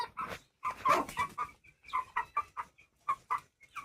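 Guinea fowl and chickens clucking inside a coop: a close series of sharp, repeated calls in irregular bursts, with brief pauses between groups.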